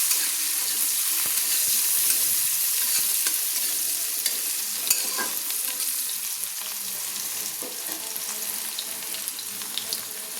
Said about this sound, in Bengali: পেঁয়াজটাকে আমি হালকা হালকা লাল লাল করে ভেজে নেব।